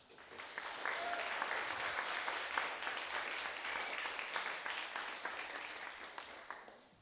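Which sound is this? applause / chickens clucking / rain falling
applause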